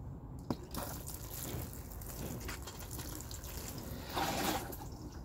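Water is poured onto compost in seed trays for sowing beetroot, a soft continuous trickle and splash with a louder burst near the end, close and fairly quiet with no talking.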